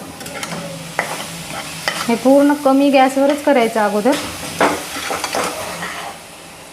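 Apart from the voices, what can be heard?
stirring coconut mixture in pan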